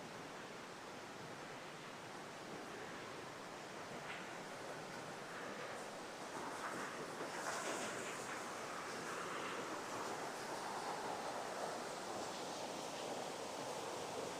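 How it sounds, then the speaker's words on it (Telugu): A small waterfall beside a roadside route to Andhra Sabarimala rushes as a constant, broad wash of falling water, faint and distant, steady throughout with no talk. "చూడండి ఇక్కడ చిన్న వాటర్ ఫాల్ లాగా కనిపించిందండి,"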